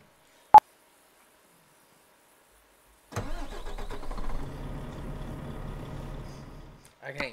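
A truck engine in the Euro Truck Simulator driving game cranks and catches after a sharp click and a few seconds of silence, running with a steady, fairly loud rumble for about four seconds before cutting off.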